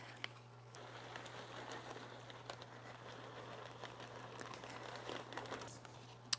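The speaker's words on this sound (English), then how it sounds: "I'm gonna put it in a plastic bag. I usually just use a gallon size Ziploc." Pie dough being placed into a gallon-size plastic Ziploc bag, faint close crinkling and rustling of plastic that runs steadily, with a low background hum.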